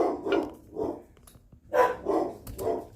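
A dog barks repeatedly in two quick bursts of three, near and moderately loud, with a short pause between the groups.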